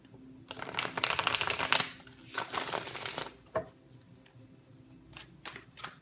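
Tarot cards shuffled by hand in bursts of dry riffling and flapping, two long runs then a sharp slap and scattered soft taps, close and alone.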